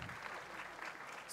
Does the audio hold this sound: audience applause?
yes